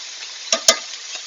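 Lamb shanks sizzle in a hot pan, giving a soft, continuous frying hiss broken by two sharp scraping clacks as the pieces are stirred, then a fainter third.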